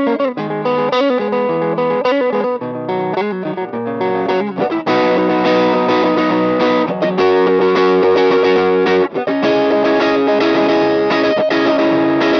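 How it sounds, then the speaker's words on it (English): An electric guitar through an SD1 overdrive pedal with a gritty overdriven tone plays continuous chords and riffs, loud and sustained, with a thicker, saturated edge throughout. "then I'll kick on the SD1 so you can see and hear what it's doing to our tone"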